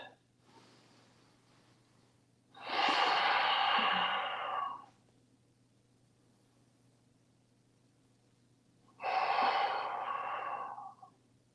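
Two long, deep breaths, audible and close, are drawn during a seated yoga twist, each lasting about two seconds, with a quiet gap between them over a faint steady hum.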